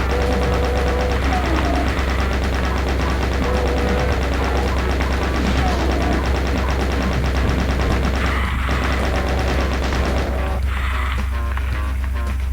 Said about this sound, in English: I hear someone shooting at me.